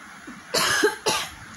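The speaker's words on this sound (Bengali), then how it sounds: "আমার না এত খুসখুস কাশি হয়েছে কি বলবো তোমাদের" Two dry, hacking coughs from a person with a persistent tickly cough, close and fairly loud, the second following about half a second after the first, with quiet room tone between.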